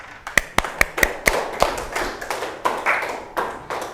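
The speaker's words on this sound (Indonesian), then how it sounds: "Very good question. Tepuk tangan semuanya." A high school chemistry class applauds: a handful of sharp, fairly close claps in an irregular rhythm, loosely together and thinning out over a few seconds, with a faint murmur of voices in the room.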